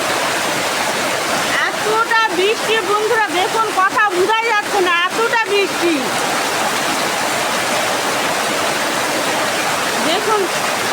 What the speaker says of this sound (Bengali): এতটা বৃষ্টি বন্ধুরা দেখুন, কথা বোঝাই যাচ্ছে না, এতটা বৃষ্টি।